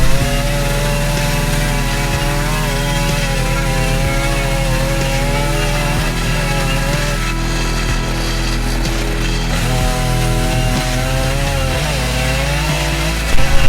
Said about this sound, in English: with the chainsaw being as strong as it is, it only took a few minutes per slice